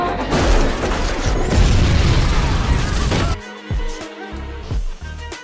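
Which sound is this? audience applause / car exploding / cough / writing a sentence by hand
car exploding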